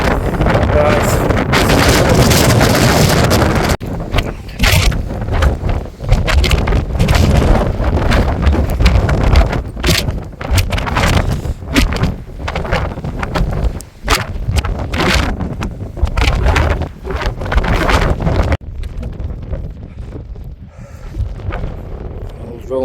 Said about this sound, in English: the wind's picked up and it's just too much